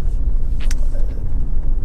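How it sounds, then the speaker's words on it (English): A 2009 Lexus RX 400h 3.3 Executive Limited Edition hybrid with CVT drives on the road, a low steady rumble of tyres and cabin noise with a brief hiss passing by. "this is a quick road test video for a Lexus RX 400,"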